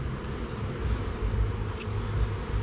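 Honeybees buzz faintly around a hive in a continuous soft drone, mixed with light wind noise outdoors.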